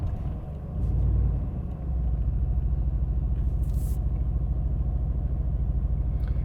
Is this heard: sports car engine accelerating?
yes